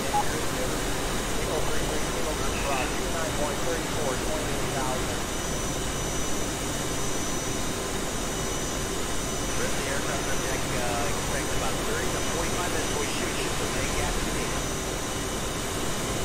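F/A-18 jet engine spooling up in the DCS flight simulator, a steady broadband roar and whine holding throughout, with a pilot's voice talking occasionally over it.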